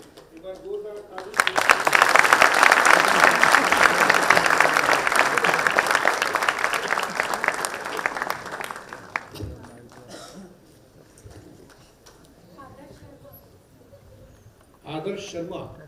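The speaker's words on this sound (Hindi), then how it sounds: "बहुत ही बेहतरीन प्रस्तुति के लिए एक बार जोरदार ताली" An audience applauds a theatre performance at a national drama festival, loud dense clapping for several seconds that thins out and fades, with someone speaking over and after it.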